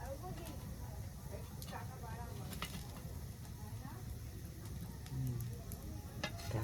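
Pitha fries in a pan over a wood-fired clay stove with a soft continuous sizzle and occasional stirring clinks, faint and close, while people talk over it.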